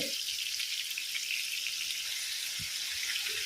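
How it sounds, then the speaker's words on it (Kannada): Bondas fish, stuffed and frying in a generous layer of oil on a low flame, gives a steady, soft, even sizzle close by with no talk over it. "ಫಿಲ್ ಮಾಡಿದ ಬಂಡಾಸನ್ನು ಇದಕ್ಕೆ ಇಡ್ತಾ ಹೋಗುವ ಲೋ ಫ್ಲೇಮಲ್ಲಿ ಸ್ವಲ್ಪ ಫ್ರೈ ಆಗಲಿ"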